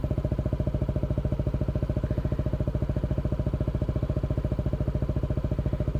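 A motorcycle fitted with a Villan SR1 exhaust idles close by, a steady, even burble of rapid exhaust pulses with no talk over it.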